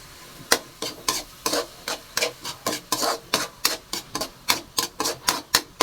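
Food sautéed with tomato is stirred in a pan, giving a steady run of scraping strokes about three per second, close and fairly loud over a faint sizzle, with no talking.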